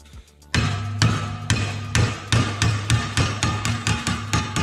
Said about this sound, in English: So I'll bend up some aluminum that I already had from another bike and just bend it over the battery there